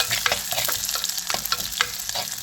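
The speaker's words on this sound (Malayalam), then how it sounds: "ചെറിയ ഉള്ളി ചെറുതായിട്ട് കട്ട് ചെയ്തത്, വേപ്പില, ജസ്റ്റ് ഒന്ന് ഇളക്കി കൊടുക്കാം." Finely chopped small shallots and curry leaves fry in hot oil for a Kerala coconut chutney, with a dense, close sizzle and crackle broken by quick scraping stirs of a spoon across the pan.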